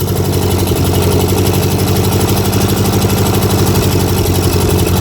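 A 1953 Ferguson TO-30 tractor, sitting unused for 15 years, runs close by with a loud, steady chugging engine beat that stays even for the whole stretch, no talk over it.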